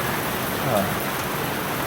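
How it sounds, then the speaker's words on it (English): Rain coming down outdoors during a walk: a steady, even hiss of falling drops with no clear pauses, filling the short stretch throughout. "Ah, yes, more rain coming down."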